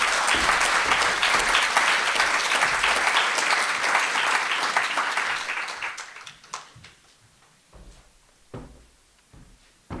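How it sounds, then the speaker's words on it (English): An audience at a school leavers' ceremony applauds to welcome students to the stage, a full sustained burst of clapping that thins and fades out, leaving a few scattered isolated claps. "Please will you now join me in a round of applause"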